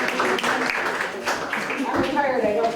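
Audience members at a Bakersfield town meeting give a short burst of scattered clapping, moderately close and brief, with talk mixed in.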